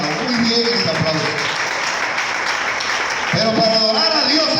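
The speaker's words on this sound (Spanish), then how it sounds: "está bien, hermano, muy bien ese aplauso" A church congregation applauds during a Spanish-language sermon, a broad steady wash of clapping running throughout while a voice talks over it near the start and again toward the end.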